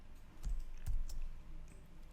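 A couple of quiet computer mouse clicks sound up close in a calm room, two soft distinct taps about half a second apart with faint background hiss and no speech.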